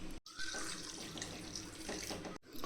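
Tap water running into a pot holding pasta, tomato and onion, a steady, close, hissing stream that cuts off briefly near the start and again near the end.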